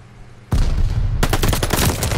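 Game gunfire in Call of Duty: Vanguard ranked multiplayer: after a quiet start, one loud shot or burst is followed by rapid, dense automatic firing that carries on without a break.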